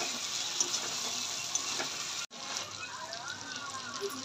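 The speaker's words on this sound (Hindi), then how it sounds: "अब इसमें ऐड करें थोड़ा सा पानी," Water poured into a pan of frying pota kaleji (goat offal) with spices, a steady bright sizzle that cuts off abruptly and then resumes more softly with gentle bubbling.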